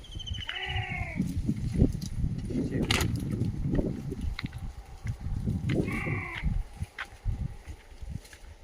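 Goats bleat twice, a few seconds apart, over outdoor rustling and shuffling close by.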